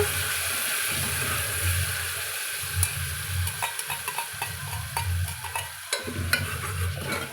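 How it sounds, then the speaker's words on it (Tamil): Ground tomato paste sautés in oil for a vegetable biryani made with Ponni rice, a soft bubbling sizzle broken by repeated low stirring pushes and a few light spoon clicks against the pan. "அரைச்சி வச்சுக்கிற தக்காளி வந்து நம்ம சேர்த்து கூட நல்லா வதக்கலாங்க"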